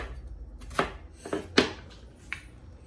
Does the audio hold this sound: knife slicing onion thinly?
yes